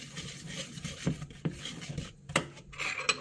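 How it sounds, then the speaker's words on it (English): Keto pancake ingredients being stirred in a bowl: scraping and rubbing with occasional light clinks of a utensil against the bowl, quiet and close, no voices. "Now, let me just mix this all in here."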